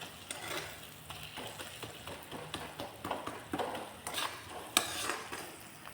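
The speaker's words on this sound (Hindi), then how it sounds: "अब इसको भुनाएगा, जब तक तेल नहीं छोड़ेगा तब तक इसको हम भूनते रहेंगे" Ground spice masala frying and being stirred in oil in a pan for matar dal, with repeated scraping and clinking of a spoon against the pan over a soft, steady sizzle.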